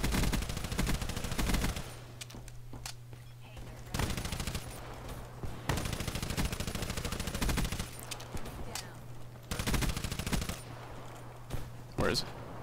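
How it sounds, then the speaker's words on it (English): Rapid bursts of automatic gunfire in the Black Ops 3 multiplayer map Nuketown, loud and repeated in several long volleys separated by short pauses, with a steady electronic hum underneath and brief talk between bursts. "I'm shooting down stuff."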